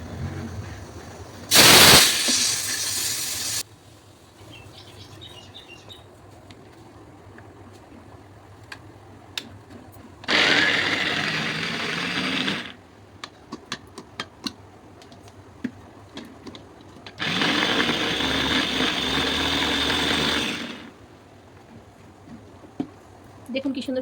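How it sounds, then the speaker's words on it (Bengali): Onion chopped in a manual pull-cord chopper while making Bengali chana masala, heard as three separate bursts of rapid, whirring, ticking blade rattle, each lasting a couple of seconds, with quiet kitchen pauses between them. "এবার আমি পেঁয়াজটাকে চপিং করে নেব"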